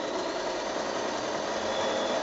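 A sewing machine runs steadily while stitching small circles across a quilt, giving a fast, even mechanical whir with no pauses, close to the microphone.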